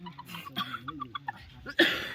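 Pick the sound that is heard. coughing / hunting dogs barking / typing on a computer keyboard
coughing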